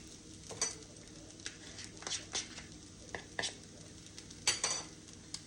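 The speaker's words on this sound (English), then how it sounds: "Trying to make sure this rice is really fried." Fried rice sizzles softly in a pan while a utensil scrapes and clatters against the metal in irregular stirring strokes, with a few sharper knocks.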